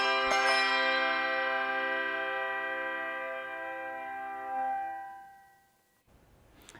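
A single struck brass handbell from a church bell choir rings out clearly and decays slowly over several seconds, followed by a brief spoken word.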